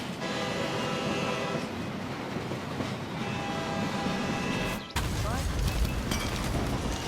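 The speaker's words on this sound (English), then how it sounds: "the train's going to hit them" Train striking targets in the Hitman 2 Mumbai level: a loud, continuous rumble of rolling rail cars with tonal horn-like wails, a sudden break near the five-second mark followed by a harsh impact surge, with voices over it.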